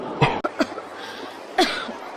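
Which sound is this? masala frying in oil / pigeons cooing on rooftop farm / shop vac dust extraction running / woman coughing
woman coughing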